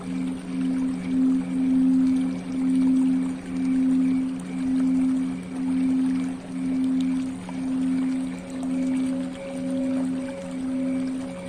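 Meditative soundscape of flowing water under a sustained gong drone that swells and fades in a slow, regular pulse about once a second; a second higher tone joins later, with no talking.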